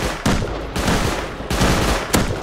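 Rapid bursts of gunfire in the survival game Rust, loud and close, with heavy shots cracking out in quick succession across the whole stretch.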